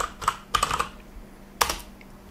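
A password is typed on a computer keyboard in a few quick clusters of crisp key clicks, close up and alone with no talk.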